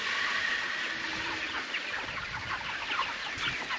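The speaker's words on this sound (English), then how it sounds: "Roughly 50 plus broilers in here." Around fifty broiler chickens cluck and murmur in their homestead pen, a dense, continuous chorus of soft overlapping calls close at hand with no voices over it.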